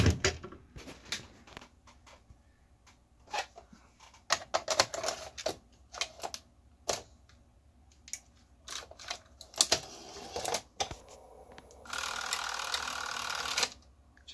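A tape cassette is loaded into a 1982 Sony Betamax SLO-420 industrial recorder, giving a string of close, sharp plastic clicks and clunks, then a steady mechanical whir toward the end.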